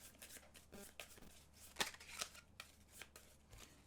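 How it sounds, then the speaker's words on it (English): A deck of eight board game cards is shuffled by hand during a solo Wyrmspan round, giving quiet, rapid riffling and sharp snapping flicks at close range, with no talking. "shuffle them up"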